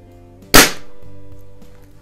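A Hatsan model 125 air rifle on an automatic-setting trigger fires once across a garage, giving a single sharp, loud crack that decays into a lingering ring over a steady low background hum.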